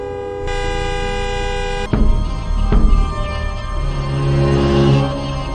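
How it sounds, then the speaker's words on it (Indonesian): A car horn in a film blares in a long sustained honk, cut off by a sharp thud, followed by rumbling engine noise and a fainter later tone. "Hal itu membuat Simon emosi, mengklakson mobil sampai akhirnya gerbang dibuka"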